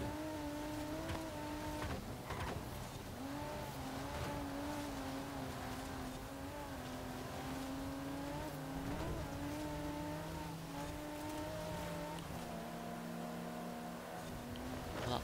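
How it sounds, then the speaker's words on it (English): A Volkswagen Touareg with a large V10 diesel engine in Forza Horizon 4 drones steadily under load, its revs shifting and dipping with brief tire squeals, heard fairly quietly and without talk. "Touareg has quite a large V10 diesel engine in it"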